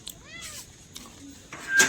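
A cat meows outdoors, a few short mews with a rising-falling pitch, fairly close and moderately loud, with a louder cry near the end.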